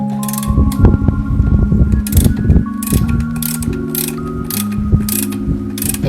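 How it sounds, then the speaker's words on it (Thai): A spring compressor on a Toyota Vios front shock absorber is cranked with a ratchet, giving repeated loud clicking bursts close by in an uneven rhythm, with metallic scraping between strokes. "ไขทั้งสองฝั่งนะครับ เพื่อ บีบ บีบสปริงนะครับ จนกว่าตรงนี้จะหลวมนะ"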